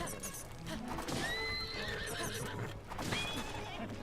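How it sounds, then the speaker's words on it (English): A horse neighs twice in The Legend of Zelda: Breath of the Wild, each whinny a falling, wavering call, with galloping hooves and game effects beneath and someone talking over parts of it. "Horse."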